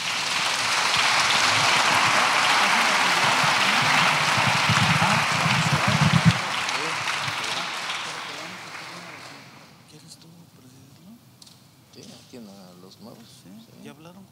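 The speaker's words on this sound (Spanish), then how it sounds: "¿Le podemos dar un aplauso al Señor?" Applause from a church congregation closing a ministry panel session, dense and steady for several seconds, then dying away into quieter room noise and voices.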